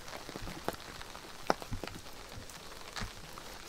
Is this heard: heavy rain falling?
yes